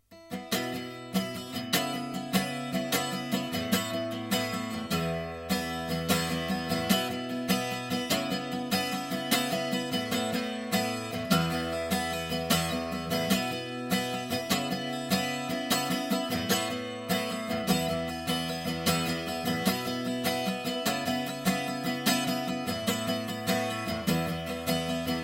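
Acoustic guitar playing the bridge chords of a song, ending on an open E, a continuous sequence of strummed and picked chords, steady and even in level throughout, no voices.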